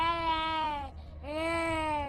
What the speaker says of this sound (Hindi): तभी एक बच्चे के रोने की आवाज राजा विक्रम के कानों में टकराई।